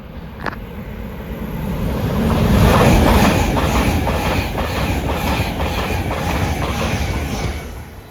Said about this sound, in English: we have another IET approaching, going towards Paddington